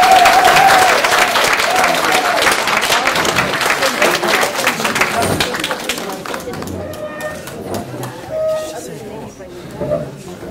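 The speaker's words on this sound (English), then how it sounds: "So please, a nice round of applause." Audience applause welcomes visiting performers at a Lithuanian Independence Day celebration. Loud, dense clapping with a voice over the start gradually thins and quiets, leaving scattered claps and murmuring at the end.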